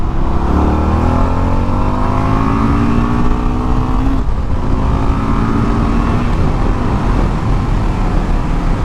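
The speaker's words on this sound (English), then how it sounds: "So we'll test the power from second gear. Alright, and let's give it some juice." Under full throttle in second gear, a car engine pulls hard, its pitch sweeping steadily upward, then a brief dip as it shifts and climbs again, loud and close throughout with no talking.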